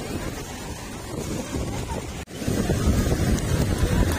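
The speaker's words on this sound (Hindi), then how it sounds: "वो देखो भाई समंदर में लहरें" Sea waves rolling onto the shore at Karachi, a loud continuous wash and rumble buffeted by wind noise on the microphone, with a brief dropout midway.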